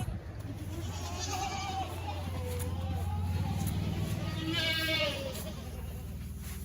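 Dairy goats, a pen of 9-10-month-old doelings, bleat repeatedly, several wavering calls rising over a steady hum in a barn, fairly close and clear.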